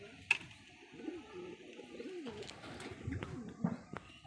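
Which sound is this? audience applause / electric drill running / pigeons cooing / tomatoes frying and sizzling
pigeons cooing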